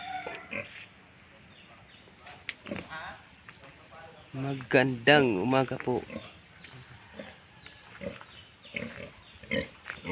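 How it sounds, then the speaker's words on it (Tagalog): A small pig grunts and squeals in short bursts near the microphone, mixed with a person speaking a greeting and other voices around. "Yung baboy namin na maliit."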